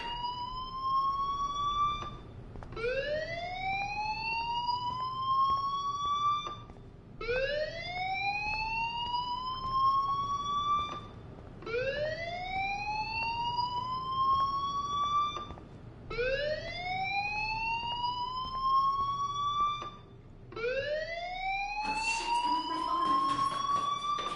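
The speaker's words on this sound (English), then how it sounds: "do you hear that fire alarm? That means you should be outside." Fire alarm in the video game Life is Strange, a loud rising electronic siren tone repeating about every four to five seconds, six sweeps in a row, close and dominant with no talk over it.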